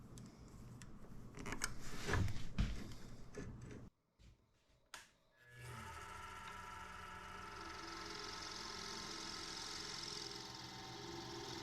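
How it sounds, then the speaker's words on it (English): A wood lathe spins up and runs steadily while flattening a pine ring blank, first with loud clattering cuts, then a brief near-silent pause, then a smooth continuous motor whir with high hiss. "we'll put this guy on the lathe and flatten him out really good on both sides"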